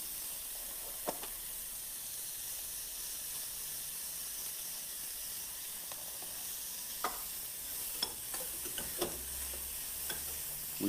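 Onion and garlic sizzling in pork fat in a pan, a steady soft hiss with scattered crackles and small pops, growing busier toward the end, with no one speaking.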